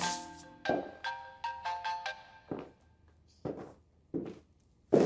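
A phone ringtone chimes in a short melodic burst, followed by scattered footsteps and soft knocks in a quiet room.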